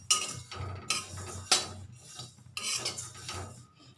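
Flattened rice (chira) is dry-fried and stirred in a pan, giving close, rhythmic bursts of gritty scraping and rustling with short pauses between strokes.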